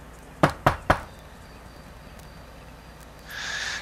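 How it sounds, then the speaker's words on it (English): Three sharp knocks land on a ranch house door in L.A. Noire, close and evenly spaced in quick succession, followed by quiet room tone and a soft hiss rising at the end. "So we're gonna go knock on the door."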